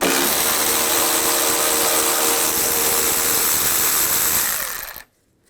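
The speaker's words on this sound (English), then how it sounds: "Using a 10mm socket, take this bolt out." A power tool with a socket runs continuously, loud and close, to remove a 10mm bolt on a Chevrolet Silverado 1500, whirring steadily for about five seconds before cutting off abruptly.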